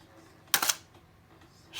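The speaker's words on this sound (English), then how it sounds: "Shutter fired." A Mamiya RB67 Pro S medium-format camera fires its shutter once, a sharp, close mechanical clack with a brief rattle, set against a quiet room.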